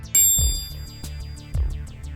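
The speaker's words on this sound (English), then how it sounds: "That's the sound of Mizuno's MP67 Muscleback" Golf ball struck with a Mizuno MP67 forged muscleback iron: one sharp, clean impact with a brief bright ring, followed by softer thuds and ticks in the background. Close and fairly quiet, with no voices.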